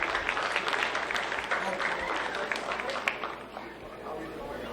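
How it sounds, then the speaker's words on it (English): Audience clapping for a young composer at a young composers night, a steady wash of applause from a room full of people that thins slightly toward the end. "Big round of applause for Kayla, everybody."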